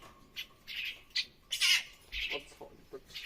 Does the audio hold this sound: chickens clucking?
no